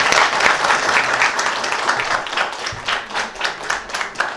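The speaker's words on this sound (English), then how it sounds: "Let's give them a big round of applause as they finish the three questions" A school quiz audience at a government-run contest breaks into a round of applause, dense hand claps with distinct individual slaps showing through toward the end, loud and close, with no talking over it.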